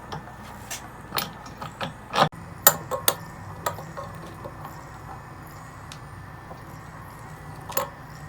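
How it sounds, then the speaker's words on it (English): Wrench or ratchet working loose the old relief valve on a water heater, giving scattered metallic clicks and clanks at close range with brief pauses, no talking. "we'll start working on taking off the old valve"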